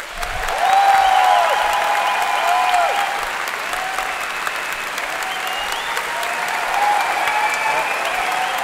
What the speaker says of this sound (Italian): Quindi vi chiedo un applauso per Valerio Ruglini.